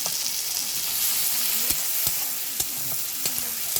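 A tomato fries with already browned onion in a pan, a continuous bright sizzle hissing evenly throughout with faint occasional clicks from stirring, no voices.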